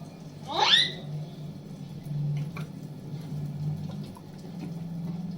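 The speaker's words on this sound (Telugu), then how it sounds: "కొంచెం ఆయిల్ వేస్తున్నాను." Cooking oil is poured into a hot pan on a gas stove in a home kitchen while making pulihora, a brief liquid splash and squish near the start followed by a low steady background hum.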